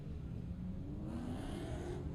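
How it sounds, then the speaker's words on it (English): A BMW safety car pulls away from the starting line at Killarney Raceway during a Power Series race, its engine a steady, full rumble that rises slightly as it moves off, heard on its own. "BMW safety car move off the line"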